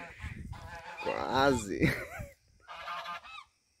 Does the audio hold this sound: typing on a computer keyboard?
no